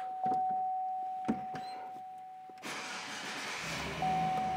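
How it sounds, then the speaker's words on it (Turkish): A few clicks and a brief whir, then the V8 engine of a Chevrolet SSR turns over and settles into a steady, rumbling idle close by. "Evet, 8 silindirin sesini duyuyorsunuz."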